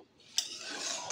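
A utensil gives a soft scraping stir through vegetables with panch phoron and fried bori in a pan, starting with a brief scrape after a near-silent moment and then rasping quietly on.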